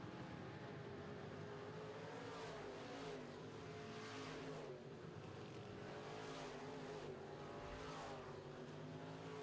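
Midwest Modified race cars roar around the track at a racing event, a steady, loud engine drone with rising and falling passes throughout, no voices heard.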